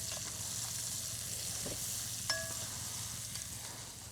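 Crispy bacon sizzles in a Dutch oven at a campsite cookout, a soft, even hiss with a low hum beneath and a single light metallic clink of stirring partway through, no voices.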